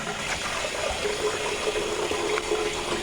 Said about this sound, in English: So I'm going to go ahead and fill up my sink with some hot water.